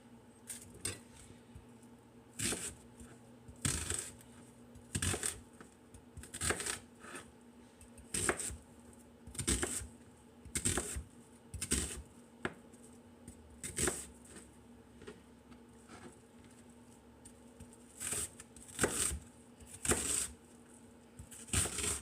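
Knife chopping an onion on a cutting board for biscuits and gravy, a series of sharp close taps in uneven bursts with short pauses between.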